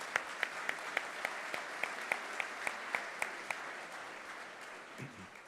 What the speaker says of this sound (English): Let's give a big round of applause to our sponsors.